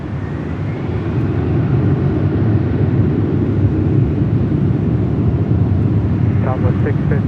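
Airliner taking off from runway 24 left at Los Angeles International Airport, a loud, steady, broadband jet engine roar heard from nearby, with a radio voice talking over it.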